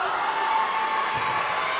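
Steady, loud roar of a packed crowd in a high school girls basketball gym during a Mahtomedi vs. Woodbury game, a continuous wash of voices and cheering with no breaks.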